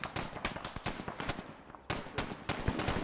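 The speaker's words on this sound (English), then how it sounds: "I'm hearing gunfire." Gunfire in Arma 3 rattles in quick, uneven bursts, sharp cracks and thuds piling up close and loud, with a brief lull midway before the shooting resumes.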